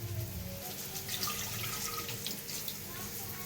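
Water runs and splashes into a pressure cooker holding washed mutton trotters, a steady close pour with light dripping while a voice talks over it.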